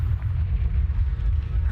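A Confringo spell explodes in Hogwarts Legacy as a continuous low, booming rumble with a fiery roar, loud and sustained across the whole moment, with no clear voices.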